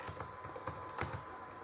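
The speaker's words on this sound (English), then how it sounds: "whatever I am typing, you see it is immediately getting displayed here" Rapid clicking of keys typed on a computer keyboard while entering data into a form, a steady run of light, close taps with a few louder strokes, no voices.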